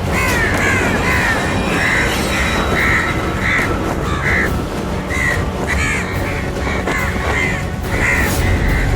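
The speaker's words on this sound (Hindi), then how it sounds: "कौवा टकरा गया है।" A crow caws repeatedly in a Hindi TV drama scene, its harsh calls rising over a loud, dense background bed at steady intervals.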